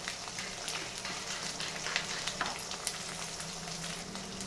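Ginger-garlic paste and turmeric fry in hot oil for a capsicum masala curry, giving a steady close sizzle broken by a few sharp crackles and light stirring ticks, with no talk.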